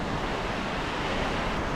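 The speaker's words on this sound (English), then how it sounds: "let the sea do its thing" Sea waves wash steadily onto Kirkcaldy beach in Scotland under a dark sky, making a continuous, close rushing surf with some wind noise and no voices.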